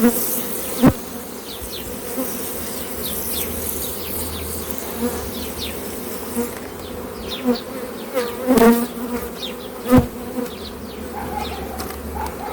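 Honey bees buzz steadily at a hive in a Ukrainian apiary after overwintering, a dense, close drone with individual insects zipping past the mic and a few soft knocks from hive handling.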